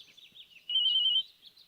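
A telephone rings once in a TV serial scene, a short bright electronic trill lasting about half a second against near silence, with faint chirpy tones around it.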